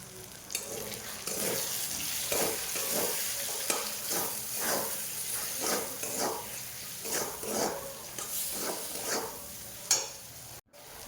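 Tomato, onion and turmeric, chili and coriander powders frying in a pan for a home-style Bengali chicken kasha are stirred in a repeated rhythm of scraping strokes over a soft sizzle, with a brief bump near the end.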